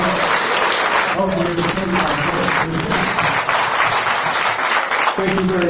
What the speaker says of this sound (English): how about a round of applause from the Orlando